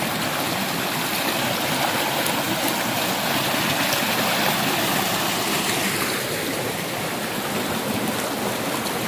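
Water flows steadily at a gold panning site in the mountains of Agusan del Sur, with a constant loud rushing wash that continues unbroken and has no speech.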